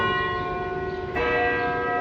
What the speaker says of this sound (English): See, they still got the bells.